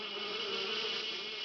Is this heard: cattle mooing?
no